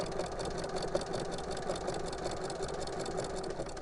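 A sewing machine back stitches fabric around a curve on a dog-bone-shaped Christmas stocking, giving a steady, continuous mechanical whir that runs unbroken from start to finish.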